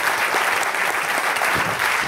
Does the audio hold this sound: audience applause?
yes